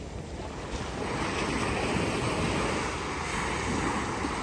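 Sea waves wash onto a white-sand beach near a harbour in Pondicherry, a steady broad roar of surf mixed with wind buffeting the microphone, loud and continuous.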